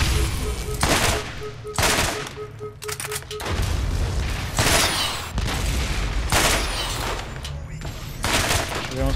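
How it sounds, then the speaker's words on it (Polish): Dense gunfire in Borderlands with rapid bursts and booming shots, loud and continuous, layered with explosions. "Strzela dwa strzały."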